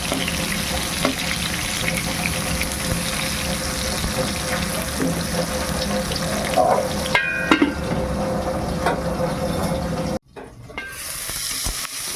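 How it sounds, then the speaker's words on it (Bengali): Pointed gourd (potol) frying in oil in a village kitchen: a continuous close sizzle with occasional stirring clinks, broken by a brief near-silent gap just after ten seconds before the sizzling resumes. "আগে পটলটা ভেজে নেব"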